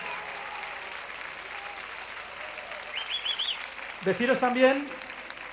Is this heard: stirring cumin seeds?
no